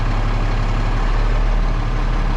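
Fire truck engine idling after a pump check, a heavy, steady low diesel throb with a constant pulsing rhythm, loud and close, running alone without talk.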